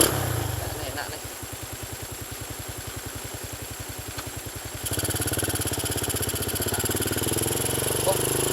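Honda C70 motorcycle fitted with a Satria FU150 engine, idling with a steady, rapid exhaust pulse that jumps louder and rougher at about five seconds, close and continuous with no talk.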